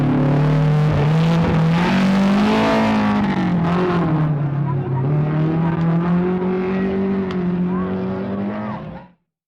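A struggling Datsun rally car in the East African Safari Rally drones past close and loud, its engine holding a steady, slightly wavering pitch for several seconds before abruptly stopping.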